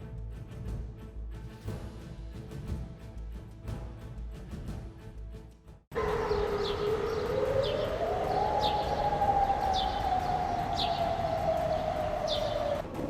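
A wailing civil defense air raid siren sounds over an Israeli city such as Tel Aviv or Haifa, rising and holding a long steady tone after a sudden start, loud and continuous, with faint bird chirps scattered over it.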